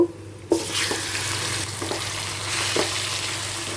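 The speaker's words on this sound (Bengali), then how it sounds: "আমি মাংসটাকে একটু ভেজে নেব এই তেলের মধ্যে" Marinated chicken drops into hot oil and starts frying with a sudden loud burst of sizzle, then a steady dense hiss with a few soft stirring knocks.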